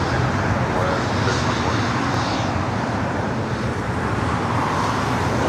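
An airplane roars at LAX during takeoff, a loud continuous broadband engine rumble with distant traffic beneath and radio voices over it.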